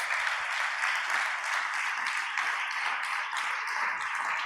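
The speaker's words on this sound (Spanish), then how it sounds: "Denle otro aplauso al Señor Jesucristo." A church congregation applauds steadily for several seconds, a dense, even wash of many hands clapping together with no pauses and no voice over it.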